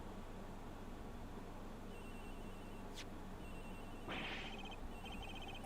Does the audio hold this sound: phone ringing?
yes